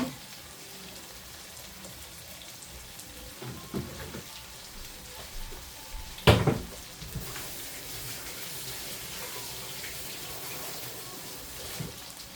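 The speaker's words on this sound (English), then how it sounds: "gotta wash my hands again" Tap water runs steadily while hands are washed under it, a continuous close splashing hiss with one brief louder clunk midway, no voices.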